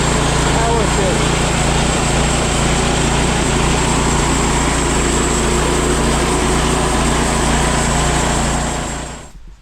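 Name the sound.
engine of a homemade band sawmill running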